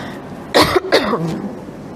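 Two close, harsh coughs in quick succession, followed by a short rasping wheeze as the breath settles.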